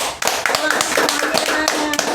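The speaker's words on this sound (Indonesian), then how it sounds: "Sekali lagi kita tepuk tangan dulu buat Kang Dian boleh." A handful of scattered hand claps ring out at a podcast recording as the host asks for applause for the guest, Kang Dian, with talk running over the clapping.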